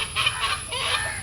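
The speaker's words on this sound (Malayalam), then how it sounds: "കോഴികളെ നല്ല സൗണ്ട് കാരണം കേട്ടോ ചില ഭാഗത്തൊക്കെ വോയിസ് ഓവർ എടുക്കണത്." Chickens cluck in short bursts close by at a rural home, their calls rising and falling over a quiet outdoor background.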